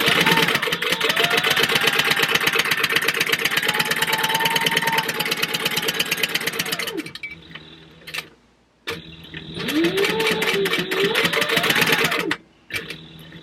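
A sewing machine back stitches a purse slip pocket with a long, steady, close whirring run that stops and starts again after brief gaps.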